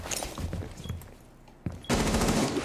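Gunfire in the Rainbow Six Siege video game: a few scattered shots followed by a loud sustained burst of rapid automatic fire near the end.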